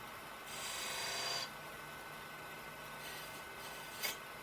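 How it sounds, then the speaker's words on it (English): A 3/8 inch spindle gouge taking a clean finishing cut on a branch wood burl spinning on a lathe, a faint airy rasping scrape in two short passes over quiet motor hum. "then I'm going to do a finished clean cut with a little 3/8 inch spindle gouge"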